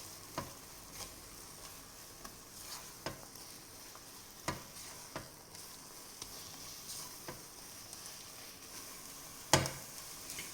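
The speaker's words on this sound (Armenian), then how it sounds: "Հիմա այնքան եմ այսպես խառնելու, որ պետք է ստացվի չոր խմոր։" Soft scraping and stirring of choux pastry dough being dried out in a pot over a low sizzle, with a few sharp clicks of a spoon against the metal, one louder knock near the end.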